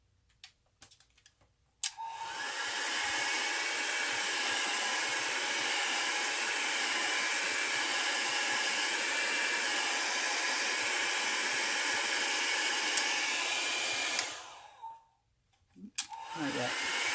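A hair dryer blows alcohol ink dry, roaring on abruptly and running at a steady, loud hiss for about twelve seconds before switching off, with faint handling noises around it.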